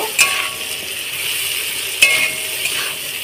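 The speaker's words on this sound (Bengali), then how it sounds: "পেঁপেটাকে একটু হালকা করে ভেজে নেব।" Chopped papaya frying lightly in a pan for chicken soup, a soft, steady sizzle with a couple of sharp clinks of a utensil against the pan.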